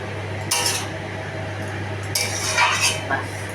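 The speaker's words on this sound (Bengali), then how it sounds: "এই জিরার গুঁড়োটা দিলাম, দিয়ে একটু নাড়াচাড়া করে" Cumin powder being stirred in a cooking pot, with two bursts of spoon scraping and clinking against the metal over a steady kitchen hiss, close by and with no speech.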